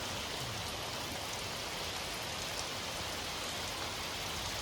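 Steady, dense rain falls outside a house surrounded by trees and coconut palms during a windy storm, a continuous close hiss with no pauses and no voices.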